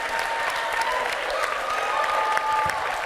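An audience applauds at a youth spoken-word poetry event, a dense, steady wash of clapping at close range with a few faint cheers and whistles mixed in.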